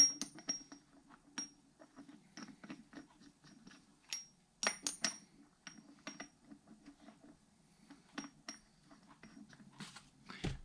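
Metal lug bolts clink and tap one after another as they drop into a brake rotor hat for aerospace front drag racing brakes, a close, irregular series of sharp small metallic chinks with brief pauses.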